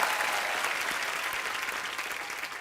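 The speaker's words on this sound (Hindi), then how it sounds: "जोरदार तालियां हो जाएं प्लीज।" A studio audience on The Kapil Sharma Show, a TV comedy show, breaks into loud, continuous applause that holds steady and close throughout.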